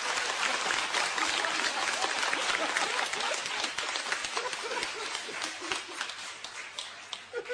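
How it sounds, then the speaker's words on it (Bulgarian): Audience applauding for an orchestra member, dense sustained clapping from a large crowd that gradually thins toward the end. "Моля, аплодисменти за господин Рафнев."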